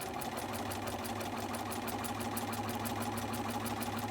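A sewing machine runs steadily while stitching quilt strips, its fast, even needle chatter and motor hum continuing without a break, close by and with no one speaking.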